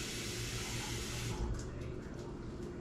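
Water poured into a pot of chili while cooking, a steady low rush and splash that holds throughout, fairly quiet and continuous.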